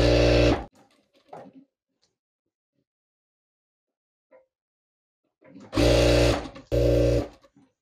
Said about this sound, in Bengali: আমরা এই দুইটা পার্ট একসাথে করে সেলাই করে নেব।